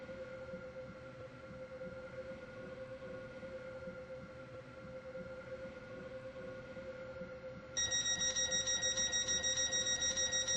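A train runs in a video game on the Stepford line between Edgemead and Leighton City, giving a steady rolling rumble with a constant tonal hum. From about eight seconds a bright repeating chime pulses over it.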